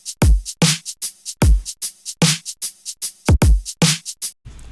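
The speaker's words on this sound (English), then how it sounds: "I used a drum loop from a previous project" A simple electronic drum loop from an earlier sound design session: punchy kicks and bright snare or hat hits in a steady, repeating pattern, loud and dry with no voices.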